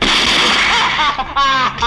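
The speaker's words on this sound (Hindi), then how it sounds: "गोली चली वो भरी हुई थी" Gunfire in a scene from a 1990s Hindi comedy film: loud, sharp blasts in quick succession that fill the short moment, with a second burst near the end.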